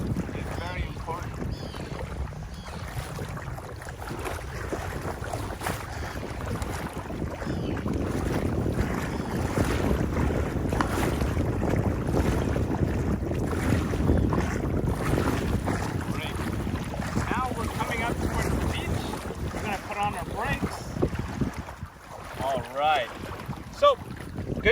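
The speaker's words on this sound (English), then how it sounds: "We're both going to start paddling like so." Two paddlers stroke a small boat through open water, the dull swish and splash of paddles mixing with strong wind buffeting the microphone as a voice talks over it.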